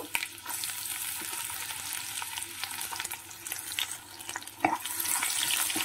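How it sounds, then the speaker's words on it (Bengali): Onion frying in oil in a pan after tempering spices for spicy semolina pulao, a close, steady crackling sizzle with scattered pops and stirring scrapes, growing brighter and louder toward the end. "পেঁয়াজটা হালকা ভাজা হবে, বেশি ভাজা হবে না"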